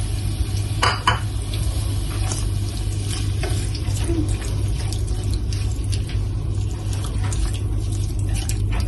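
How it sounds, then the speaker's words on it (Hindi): Mushrooms, olives and jalapeños fry in a pan for an Alfredo pasta, giving a steady close sizzle with a few scraping stirs over a constant low hum. "इसमें मैं साथ डाल दूंगी ये मशरूम और जैतून, इनको फ्राई कर लूंगी।"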